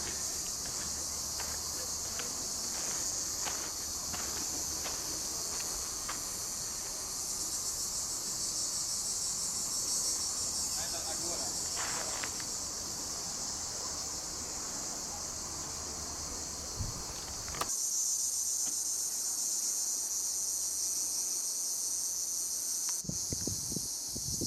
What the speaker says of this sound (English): you hear those crickets